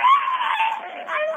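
A voice imitates a lonely werewolf howling at the moon, one short wavering howl that slides gradually downward, close and fairly loud.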